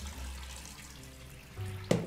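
Water runs from a kitchen tap while prawns are rinsed, a soft steady stream close by, ending in a brief clatter.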